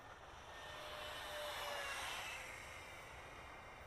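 A Freewing F9 Panther 64mm EDF RC jet makes a high-speed pass, its steady whooshing ducted-fan whine swelling toward the middle and easing off again, fairly distant, with no voices.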